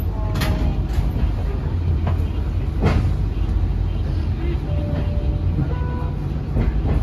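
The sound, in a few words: interior of Joglosemarkerto economy new generation train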